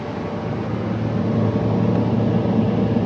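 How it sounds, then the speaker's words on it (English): A Finmaster 6 boat's outboard engine runs steadily on the water, a continuous low droning rumble heard up close that swells slightly over a few seconds, with no talking. "We picked up drive again and the engine note reduced."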